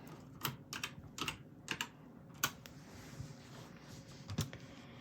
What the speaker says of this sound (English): I have my computer just up here, which you can't see unfortunately, but I'm going to type in brass key.